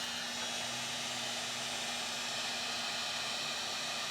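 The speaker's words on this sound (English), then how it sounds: "Now I'll use a heat gun to shrink this" A heat gun blows steadily while shrinking protective tubing during a Land Cruiser bumper install, a constant close fan roar and airy hiss with a faint motor hum, no talking.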